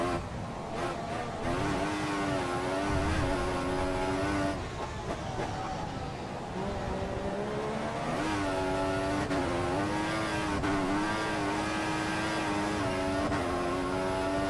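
Racing car engine at full throttle in the F1 2014 game during a qualifying lap at Albert Park, Australia: a loud, continuous high-revving whine that climbs and drops through gear changes, steady and close for the whole stretch.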